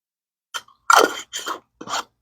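Close, crunchy chewing of homemade canned sweet relish at a taste test, with four short bursts of crunching in quick succession and no talk.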